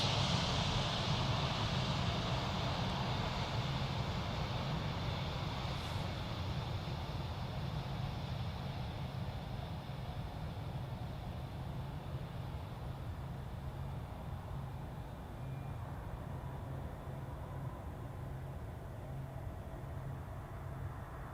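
Cargo aircraft landing at Memphis airport, a steady loud jet roar that fades slowly as it passes, continuous broadband rumble with no talk.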